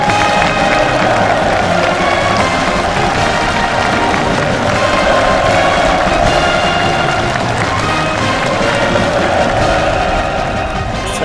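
A huge crowd cheering mansei at a housing district completion ceremony on the Pothong riverside in Pyongyang: a dense, loud, continuous roar of massed voices and clapping, with celebratory fireworks mixed in.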